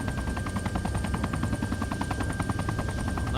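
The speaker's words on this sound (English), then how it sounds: "it sounds like there's a bad bearing in the tail rotor or something like that" A helicopter in a video game, with a suspected bad tail rotor bearing, whirs with a loud, rapid rhythmic chop and a steady high whine running through it.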